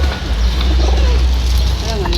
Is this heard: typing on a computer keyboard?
no